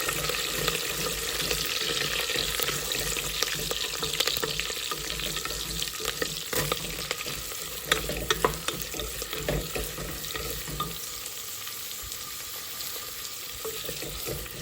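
Curry leaves and onion fry in a pan for Nellore-style katte pongal, a loud constant sizzle with crackling spits and intermittent stirring, easing slightly toward the end.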